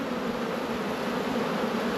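A hive's worth of honey bees hum loudly and evenly after being shaken from a frame, the close insect drone holding steady throughout with no talking.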